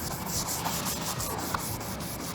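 Fine-grit sandpaper works over P30 primer on a Subaru STI, knocking down orange peel with a close, continuous rubbing hiss in quick back-and-forth strokes.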